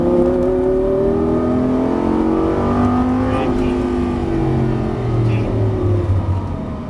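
A Lamborghini Gallardo on a race track, its engine loud and close as revs rise and fall through acceleration and braking, with a voice talking over it.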